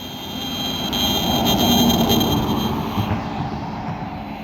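An EMF meter picking up cell phone signals inside a car gives off a steady, loud, hissing electronic buzz with thin high whines, holding for several seconds before fading slightly.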